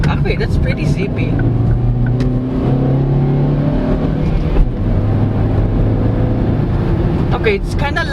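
A 2018 Chevrolet Sail 1.3 LT with a manual gearbox drives and accelerates, the engine drone rising in pitch through the gears with a shift midway, heard from inside the cabin under constant talk.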